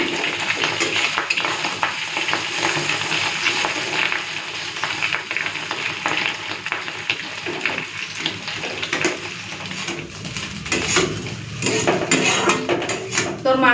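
Roe from a large rohu fish fries in a pan, giving a loud, continuous crackle and spatter mixed with clinks of utensils against cookware throughout, with no clear voices.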